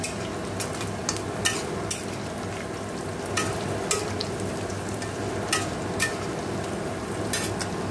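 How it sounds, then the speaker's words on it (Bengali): A constant hiss of pointed gourd frying in a pan, broken by occasional sharp scrapes and taps as a utensil stirs the food. "দেখো এখানে একটু পটল ভাজা হচ্ছে"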